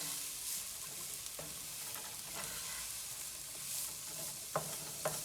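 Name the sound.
chopped carrots browning in a pan while stirred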